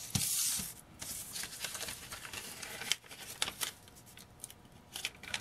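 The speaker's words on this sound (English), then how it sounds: "Make sure you crease it good." Paper strip for a rolled paper basket rim being folded to the center and creased, giving dry crinkling, rustling and sharp scraping swipes at close range, with a brief louder crumple at the start and no talk.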